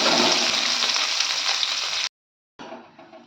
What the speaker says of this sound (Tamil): கருவேப்பிலை கொஞ்சம் அடுப்பை சிம்மில் வச்சு நல்லா வதக்கிக்கலாம்